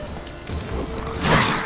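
Hooves of a galloping horse in The Witcher 3 thud in an uneven rhythm, partly masked by a swelling whoosh of combat noise near the end.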